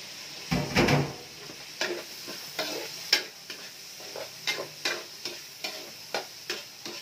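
Tomatoes tip into a hot frying pan for chicken tinola with a brief sizzle, followed by a steady series of spoon-against-pan scrapes and knocks as they are stirred, fairly close and moderately loud.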